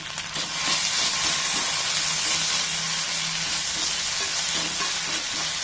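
Macaroni stirred with red chilli sauce in a hot pan, a loud steady sizzle and hiss with repeated soft scraping strokes of a spoon throughout, no voices.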